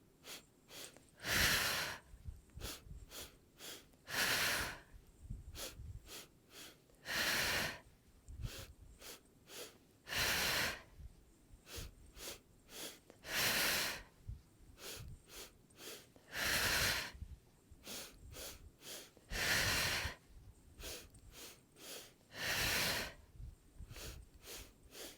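Slow, deep breaths during yoga practice, each long airy inhale or exhale rising and fading in a steady rhythm, close and fairly quiet, with no talking.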